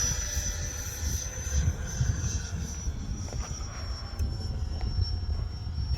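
A Freewing F9F Cougar RC jet flies on throttle with flaps out on a day with a strong crosswind. It makes a steady, moderately distant whining drone with a high tone held throughout, over rumbling wind noise, and no one speaks.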